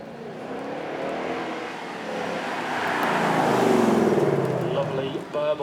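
A 5-litre V8 supercar burbles and rumbles on a track, its deep engine note swelling steadily louder mid-clip as it nears, with crowd chatter and voices in the background.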